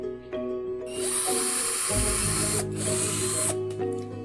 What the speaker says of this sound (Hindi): फिर स्पीड से ड्रिल कर लेता हूं।